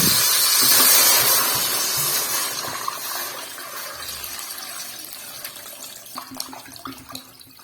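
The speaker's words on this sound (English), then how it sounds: "I add water." Water pouring into a cooking pot of chicken, ghee and smashed onions, a loud rushing splash at first that thins to a softer trickle, with small clinks near the end.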